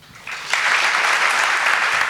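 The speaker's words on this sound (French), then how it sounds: "vous vous réjouissez, comme moi, d'applaudir notre ami Sylvain Tesson" An audience at a museum event bursts into applause for the writer Sylvain Tesson, starting soft and quickly swelling into a full, sustained round of clapping from a sizeable crowd.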